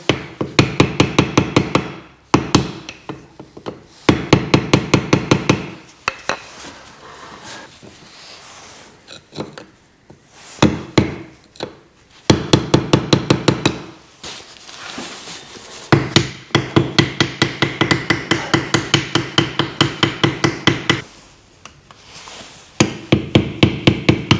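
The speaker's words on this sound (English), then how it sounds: "I should be able to separate this axle from the differential. Can I gently tap it here?" Hammer blows tapping at the axle of a BMW E46 330ci to free it from the differential, struck in fast rhythmic bursts of metallic strikes separated by short pauses, close and loud with no talk.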